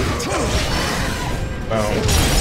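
Heavy melee strike from the Wo Long action game, a staff-wielding punishing blow landing amid dense, loud combat noise with whooshes, crashes and thuds over a continuous game soundtrack.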